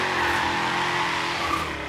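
A Shelby GT350R drifts around a corner in Forza Horizon 3 at Byron Bay, its engine droning steadily and loudly with a continuous tire hiss throughout, and no voices.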